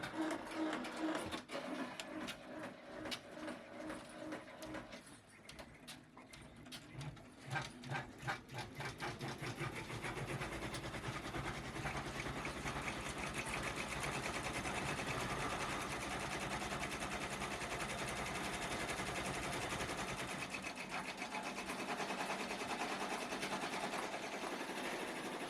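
An embroidery machine stitches a faux smocked applique, starting with rapid, uneven needle chatter that settles into a steady, fast mechanical whir running continuously throughout.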